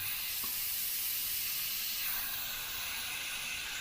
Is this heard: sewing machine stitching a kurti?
no